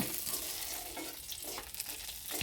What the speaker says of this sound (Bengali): কেটে রাখা রসুনটা ওই গরম তেলের মধ্যে দিয়ে ভালো করে ভেজে নেব